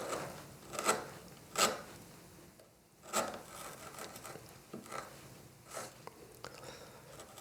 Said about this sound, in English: lots of pressure down on the chisel, and just gradually work that surface cut